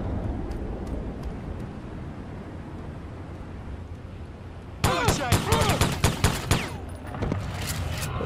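Pistol shots in the video game Sniper Elite crack in a rapid burst of several close, loud reports after a stretch of quiet background ambience, then trail off into a few scattered hits.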